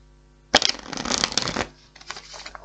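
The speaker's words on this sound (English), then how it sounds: "All right, one more shuffle." Tarot cards shuffled by hand at close range, a dense burst of riffling and flicking that starts abruptly, runs for about a second, then trails off into softer, scattered card rustles, with no talking.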